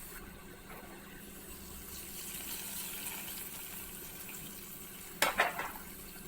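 Hot fried onion and curry leaf tempering is poured into a simmering karimeen pearl spot fish curry in a Kerala kitchen, a low steady bubbling followed by a short loud sizzling burst near the end.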